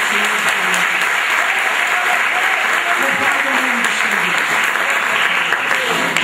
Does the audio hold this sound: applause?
yes